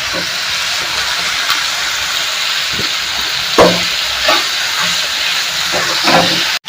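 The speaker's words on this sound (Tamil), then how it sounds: "இந்த சவ் சவையும் போட்டுக்கிறேன் போட்டு நல்லா வதக்கிக்கலாம்" Chopped chayote sautéing in a hot pan for chow chow chutney, a steady close hiss and sizzle running throughout with a few brief louder crackles and spatters.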